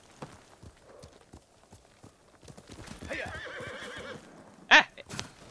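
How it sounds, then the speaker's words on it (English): A horse in Ghost of Tsushima trots in with clip-clopping hooves, then lets out a sharp, loud neigh near the end, the hoofbeats continuing softly around it. "And horse comes out of nowhere."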